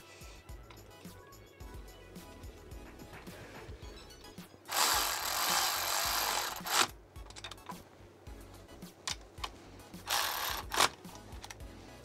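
Power tool whirring in two bursts while tightening the power-steering reservoir bolts on a BMW E46, a longer run then a shorter one, close and fairly loud over quiet workshop background.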